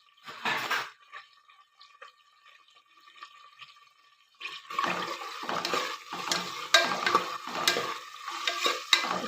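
Onions sautéing with cardamom and bay leaf in a hot pan for vegetable pulao: a quiet pause with a faint hum gives way to a steady, close sizzle broken by repeated stirring scrapes.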